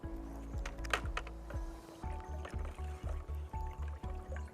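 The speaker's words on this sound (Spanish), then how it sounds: "Se mezcla la solución uniformemente." Pesticide solution stirred in a container of water with a machete, giving repeated rhythmic sloshing and scraping strokes about twice a second, fairly close and steady, with no voices.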